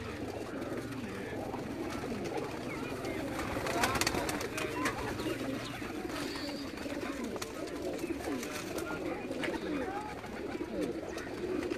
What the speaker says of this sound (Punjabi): ਇਹ ਸਾਡੇ ਸੂਜ ਵਾਲੇ ਕਬੂਤਰ ਨੇ ਅੱਸੂ ਚ ਉੱਡਣ ਵਾਲੇ ਜੀ।